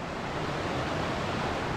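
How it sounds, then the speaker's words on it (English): A small stream flowing beside a hiking trail in Morialta Conservation Park, heard as a steady, soft rushing hiss of water with no voices. "we have to follow this small stream out here"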